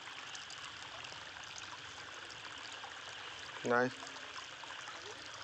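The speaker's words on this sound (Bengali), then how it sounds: "আরে নিচটা ফাটে গেছে রে, নিজকে জল যাচ্ছে এটা বেশি করে।" Water streams steadily out through the cracked bottom of a fish pond, a continuous trickling flow heard throughout, with a brief spoken word partway in.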